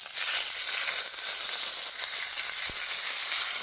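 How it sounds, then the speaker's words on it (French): Fish frying in a spoonful of oil in a non-stick pan makes a steady, close sizzle that holds an even level throughout, with no voices. "je vais maintenant le frire"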